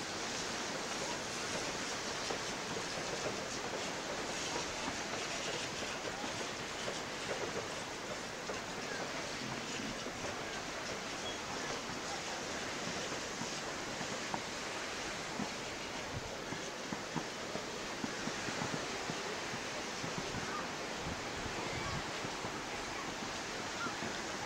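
Steady, moderately loud roar of ocean waves and surf at a beach in Hawaii, a continuous broadband wash with no distinct breaks, heard alone without voices.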